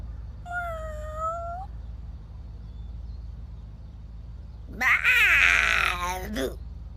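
A small kitten gives two meows, first a short clear one and then a longer, louder wavering cry, with quiet background hum in between.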